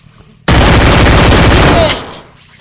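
A rapid fusillade of gunshots, including machine-gun style automatic fire, bursts loudly and continuously for about a second and a half before cutting off into a fading echo, with no voices over it.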